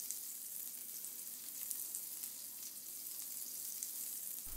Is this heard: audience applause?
no